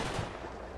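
Gunfire in the wargame Combat Mission: Battle for Normandy, a dense, continuous rattle of shots with no clear gaps, fairly faint and steady throughout with no voices.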